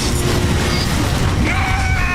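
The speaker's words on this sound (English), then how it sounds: "There's suddenly all these big explosions." Loud, dense rumbling booms and crashes fill the clip continuously, with no pauses, like a sustained barrage of big explosions.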